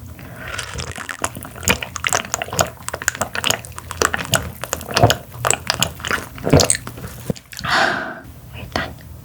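Close-miked eating of deep-sea sea snail and lobster tail dipped in sauce, with repeated wet bites, chewing and slurping sounds in uneven bursts and soft murmured speech between them.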